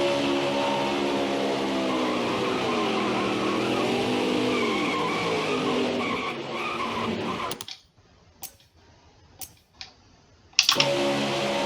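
A NASCAR Heat 5 race car crash replay: a loud engine drone sweeps up and down in pitch with tire squeal, then cuts to near silence broken by a few sharp impact bursts.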